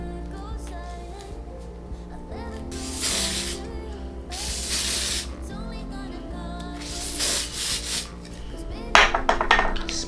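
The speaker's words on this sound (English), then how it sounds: "Spray" Bursts of hair spray hiss onto the baby hairs of a lace frontal wig, several separate sprays of about a second each amid quiet handling rustles.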